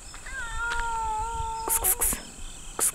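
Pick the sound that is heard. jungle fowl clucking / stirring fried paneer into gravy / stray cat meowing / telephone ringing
stray cat meowing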